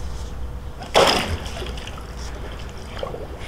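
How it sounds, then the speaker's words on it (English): Polaris ATLAS XT pool cleaner lowered into pool water, a single soft splash and slosh against a constant outdoor hum, with faint trickling afterward. "we're going to go ahead and submerge the ATLAS in the pool"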